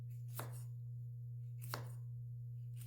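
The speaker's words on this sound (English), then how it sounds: "We're just going to cut the peppers up into strips here." A knife cuts bell peppers into strips on a cutting board for turkey chili, giving two crisp, separate chops over a steady low hum, with no talking.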